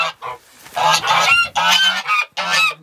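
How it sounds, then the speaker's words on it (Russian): Geese honk loudly and close by, a series of harsh, repeated calls with brief pauses between them. "помимо этого у нас еще есть гуси"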